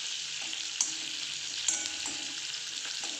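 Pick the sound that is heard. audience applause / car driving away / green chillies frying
green chillies frying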